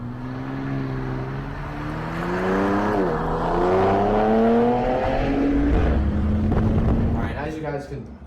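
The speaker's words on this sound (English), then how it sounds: "this sounds very nice for a TRX. I think they did a very good job with the exhaust." The exhaust of a Ram TRX pickup truck rumbles and climbs through revs in a deep, layered drone, swelling louder mid-stretch before easing off, with some voices underneath.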